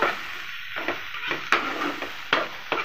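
Chopped onions stirred and frying in a pan at a village cooking setting for garlic prawns, a steady sizzle broken by several sharp scraping strokes of the spoon at irregular intervals, close and alone.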